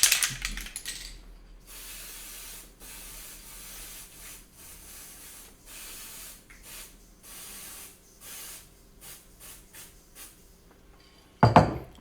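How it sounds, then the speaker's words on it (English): A spray can hisses scanning spray onto a dental master model with primary crowns inside a box, in a long string of short bursts separated by brief pauses, ending with a louder clatter. "now I need to spray it again in my box"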